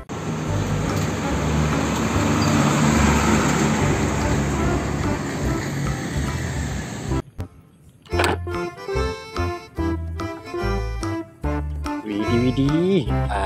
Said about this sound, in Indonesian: Wadidaw, ada mobil truk tangki.